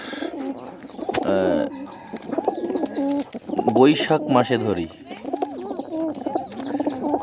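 Pigeons coo in low, throaty bursts, close and repeated, while someone talks over and between the calls.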